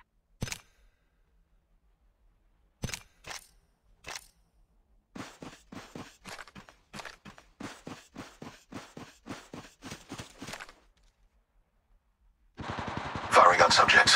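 Gunfire in the fast-paced shooter Apex Legends: a few isolated shots, then a rapid run of about a dozen evenly spaced bursts, ending in dense, louder continuous firing.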